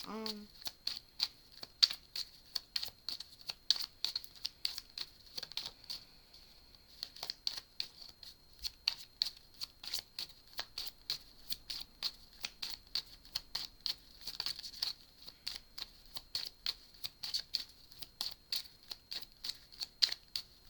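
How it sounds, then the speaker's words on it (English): Oracle cards are shuffled repeatedly, with rapid papery riffling bursts and light snaps repeating in a quiet room. "I guess I gotta shuffle again."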